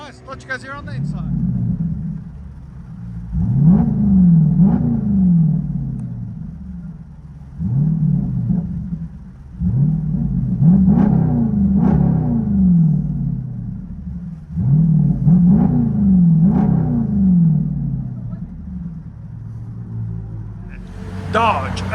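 Inside the cabin of a 2018 Dodge Durango SRT 392 with a 6.4L HEMI V8 and Corsa Extreme exhaust with muffler delete, repeated revs build into a deep muffled rumble and fade, with a person talking in between.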